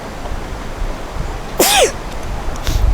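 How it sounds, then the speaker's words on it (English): A single loud, close sneeze from a man at home, a sharp burst with a rising-falling voiced tail, set against low room background noise. "Excuse me, I'm gonna sneeze."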